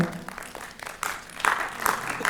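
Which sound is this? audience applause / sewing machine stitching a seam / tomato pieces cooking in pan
audience applause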